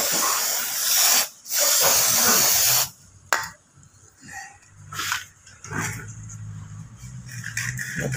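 Cleaner sprayed onto a carbon-caked EGR valve from a Toyota Fortuner comes in sharp hissing bursts, two long sprays and several shorter puffs, close up, with quiet handling noises between.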